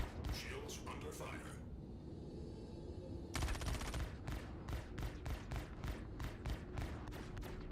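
Rapid rifle fire rattles against a ship's hull in the space game Star Citizen, in two bursts of dense, evenly spaced cracks separated by a quieter stretch, with game ambience and speech mixed underneath.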